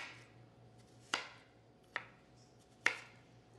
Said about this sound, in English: Now, we're going to cut this into thin strips